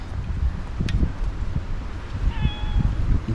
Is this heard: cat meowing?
yes